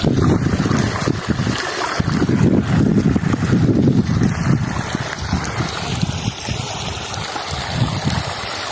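Water rushing past in a village setting, a steady broadband wash mixed with gusty wind buffeting the microphone, close and fairly loud throughout with no speech.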